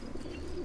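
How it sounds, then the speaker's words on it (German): A pigeon coos once, softly and close by, in the video game Assassin's Creed Brotherhood, with no talking. "Hey Taube!"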